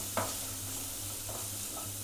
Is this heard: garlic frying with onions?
yes